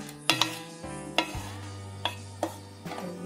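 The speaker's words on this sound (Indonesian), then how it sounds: "Tumis kacang panjangnya" Spicy long beans are stir-fried in a pan. Sharp clanks of a utensil against the pan come every second or so over a soft sizzle and a low steady hum.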